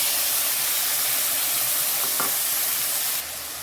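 Green peas sauté in a spiced oil tempering, giving a close, continuous sizzle with a couple of soft stirring scrapes before the hiss drops quieter at the end.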